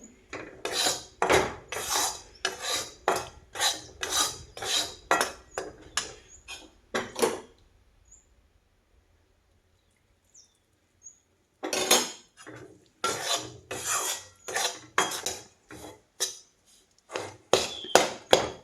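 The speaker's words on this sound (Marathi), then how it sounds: "हे डाळीचे पीठ मी काय जास्त भाजून घेणार नाही थोडंसं भाजून घेणार आहे" Gram flour roasting in a pan for besan ladoo, a rapid run of loud, close metallic scrapes of a spoon against the pan, a pause of near silence, then the brisk scraping starts again.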